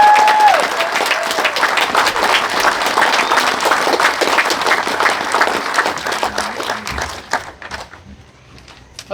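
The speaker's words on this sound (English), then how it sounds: "but first, a round of applause" Loud, sustained applause from a crowd at a school building dedication, dense clapping that holds steady and then thins out and fades over the last couple of seconds.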